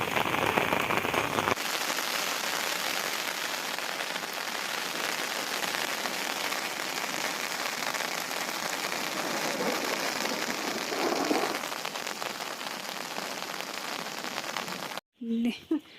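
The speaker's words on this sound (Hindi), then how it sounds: "आज बहुत खतरनाक बारिश हो रही है" Heavy monsoon rain in the Uttarakhand mountains pours down steadily, a dense hiss of drops on surfaces that stays loud and constant, with a brief cut near the end.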